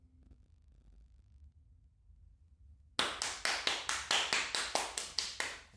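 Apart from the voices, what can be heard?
hands clapping to cover an audio issue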